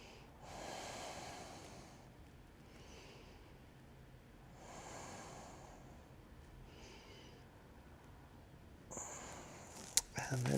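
Slow, deep breaths during a yoga stretch session, heard as soft airy inhales and exhales in a slow, even rhythm, quiet and close, ending with a brief clatter of movement.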